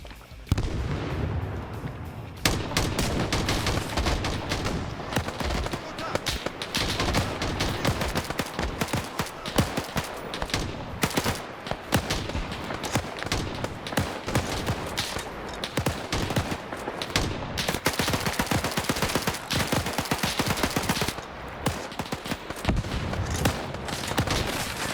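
Dense, sustained automatic gunfire and explosions in a Rhodesian-campaign military shooter, including submachine gun bursts, rattling continuously and loudly through the whole stretch with barely a pause.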